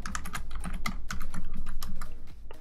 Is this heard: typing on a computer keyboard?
yes